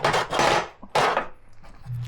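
Low grit sandpaper is rubbed over metal ZX-12R motorcycle parts before painting, making two rough, close-up scraping strokes separated by a short pause.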